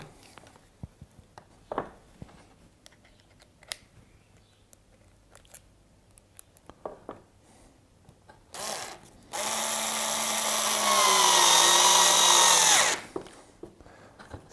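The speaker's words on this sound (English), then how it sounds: "we're ready to attach them together just with a hinge and a couple of short screws" Short screws driven into a hinge with a power drill: a few light knocks and handling clicks, then a loud, close whirring burst of several seconds that changes pitch as the screw bites before stopping.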